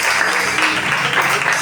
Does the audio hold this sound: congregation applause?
yes